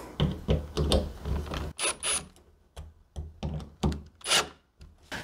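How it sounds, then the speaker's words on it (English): Two bolts being tightened on a replacement door knob, giving a run of close, dry clicking and ratcheting rasps in short bursts with brief pauses between turns. "So once you have it into place, you can go ahead and tighten down these two bolts."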